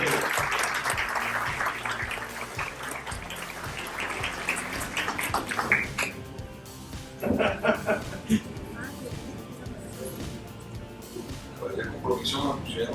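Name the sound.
applause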